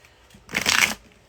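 A deck of tarot cards is given one quick shuffle, a brief papery riffle lasting about half a second, close by, with quiet around it.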